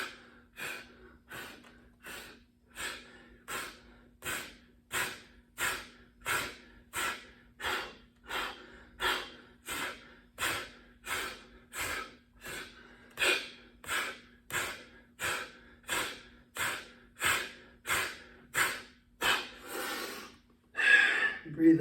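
Deep, forceful exhalations repeat in a steady rhythm, about one every second, close and clear, during an iron arm conditioning exercise, with a louder burst of breath near the end.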